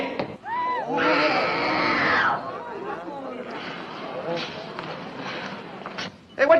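A group of people screams loudly at the door of a drama class rehearsal in a 1958 film. A sustained burst of screaming is followed by overlapping chatter and scuffling footsteps, then a sharp loud outburst at the end.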